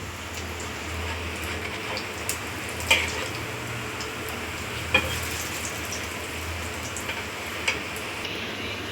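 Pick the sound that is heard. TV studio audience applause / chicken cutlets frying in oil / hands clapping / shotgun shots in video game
chicken cutlets frying in oil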